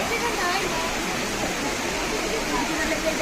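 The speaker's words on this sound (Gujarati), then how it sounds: "આ અવાજ તો આવે છે પાણીનો, જે તમે જોઈ શકો છો." A waterfall near Tirumala rushes in a steady, loud roar of falling water that fills the whole moment without pause.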